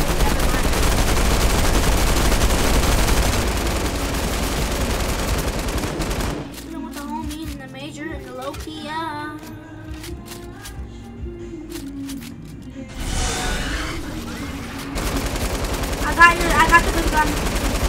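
Bursts of rapid video game gunfire from Fortnite come in loud volleys, then the shooting drops away to sparse pops and clicks before resuming near the end, with a voice talking over parts of it.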